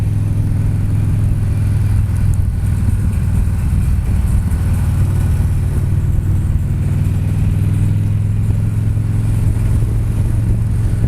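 Los Angeles traffic rumbles loudly and steadily from a motorcycle, a constant low engine drone and road noise with no pauses, close to the microphone.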